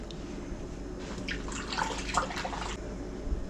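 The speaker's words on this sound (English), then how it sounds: "Let me rinse off my finger if you don't mind." A finger rinsed under a running kitchen tap while making diner-style hamburger steak, a steady soft stream of water with light splashing changes as the hand moves through it, fairly quiet and alone.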